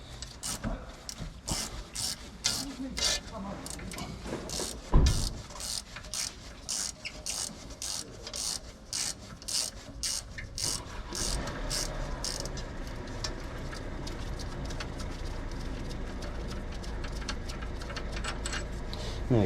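Rapid metallic clicking of a ratchet undoing bolts on the rear wheel of a 2011 Mercedes Luton van, steady repeated ratcheting strokes close up, with a knock partway through and a humming background building in the second half.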